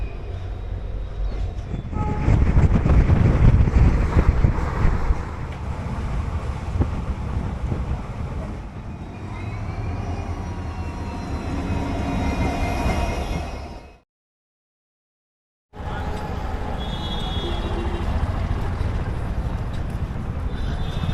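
A train arriving at a station in Rajasthan's Thar Desert, a loud, continuous rumble and rattle of wheels and carriages with faint squeals, dropping out briefly before the rolling noise resumes.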